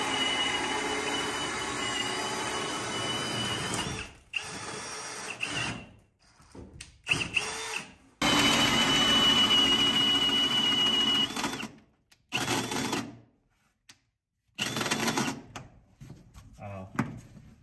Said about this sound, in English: As you can hear the gears grinding.